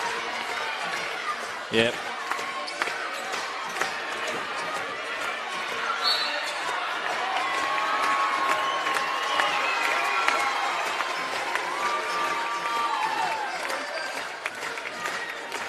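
Crowd noise at a close basketball game as the Pioneers play, a steady roar of cheering and whooping that swells in the middle, with a brief thud and a commentator's voice over it.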